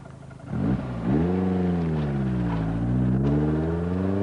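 A Lotus mid-engine sports car accelerates hard, its engine note climbing steadily and loudly through the revs after a brief gear change, with no talk over it.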